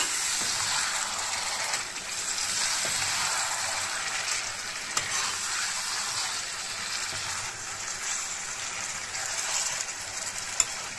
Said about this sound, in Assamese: অলপ মছলাতে ভাজি লৈছোঁ